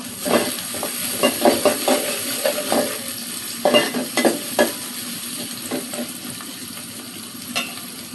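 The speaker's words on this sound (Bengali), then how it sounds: "পেঁয়াজ দিয়ে দিব, পেঁয়াজটা নেড়ে দিব।" Onion fried in oil in a pan, with a constant sizzle broken by clustered scraping strokes of a stirring utensil, loud and close.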